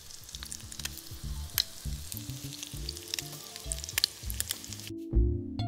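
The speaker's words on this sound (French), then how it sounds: "il n'y a plus qu'à mettre les tranches de brioche ou de pain dans la poêle" Brioche slices frying in butter in a hot pan give a steady close sizzle, with repeated soft scraping and stirring knocks and a brief louder thump near the end.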